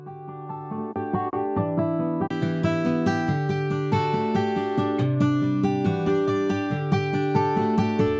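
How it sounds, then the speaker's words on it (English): A free guitar loop playing a dense, sustained chordal pattern, starting thinner and filling out after a couple of seconds, steady and loud throughout with no talk. "I built these off of actually this free guitar loop I got from"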